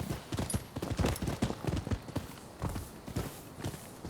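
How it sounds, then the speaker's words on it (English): Horse hooves pound in a quick, rhythmic galloping beat in the video game Rise of the Ronin, close and steady throughout. "Should I use a horse? I should use a horse."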